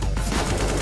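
Rapid gunfire from a CS:GO match in a professional esports broadcast, with a dense burst of loud, overlapping shots and no talk.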